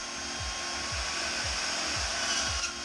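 Metal tube slugs being cut to length for custom motorcycle engine crash bars, a steady loud grinding whir of a power cutting tool with rhythmic low thumps roughly every half second, continuous and close, no talking.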